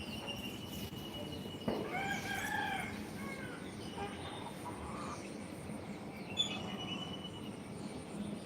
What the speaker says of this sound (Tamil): நம்முடைய சேவல் மட்டும் வந்திருக்கிறது